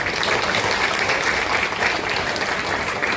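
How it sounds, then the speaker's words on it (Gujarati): An audience at a trust award ceremony applauds loudly, a steady dense wash of clapping that holds throughout without pause. "એકવાર અમારા મા માટે જોરદાર તાળી વગાડજો પ્લીઝ"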